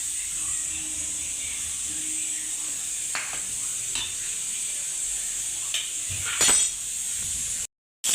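Steady, bright sizzling of hot oil in a pan for cooking mutton, continuous throughout with a few soft clinks and a brief cut to silence at the end.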